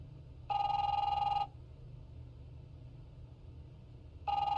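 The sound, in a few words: telephone ringing in video game The Wolf Among Us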